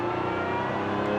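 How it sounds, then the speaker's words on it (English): Supercharged Lotus sports car with a six-speed manual accelerates, its engine hum carrying a steady, rising supercharger whine, close and continuous through a brief burst. "love that supercharger whine. You just hear it."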